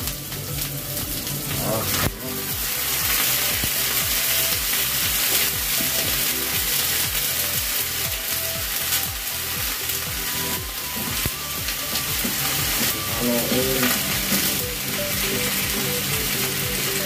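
Chicken liver sizzles and fries steadily in a hot pan alongside onions for chicken sisig, a continuous loud crackle with occasional stirring and clinks throughout.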